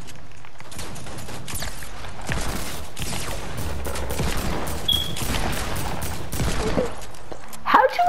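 Gunshots in the Fortnite video game, heard as a close, loud, rapid string of cracking shots that goes on steadily for several seconds, with faint game sounds underneath.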